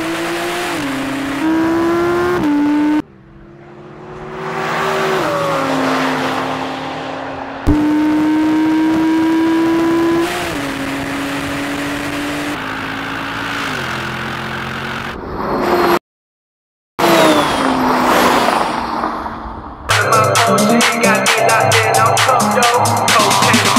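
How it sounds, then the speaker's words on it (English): A Mercedes AMG GT 63, an Audi R8 and a Porsche 911 Turbo run a rolling race from 50 mph in automatic gearbox mode, engines loud and droning, pitch climbing through repeated upshifts with brief cuts between onboard views. "Now we have a rolling race from 50 miles an hour."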